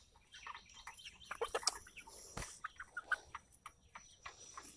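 Chickens clucking softly in a coop, a scatter of short, quiet clucks and chirps from a few birds at close to middle distance, with a brief sharp knock midway.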